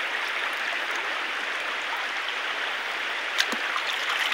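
A wide river streams past in an even, steady wash of flowing water, moderately quiet and continuous with no talking, heard outdoors during a bird hunt.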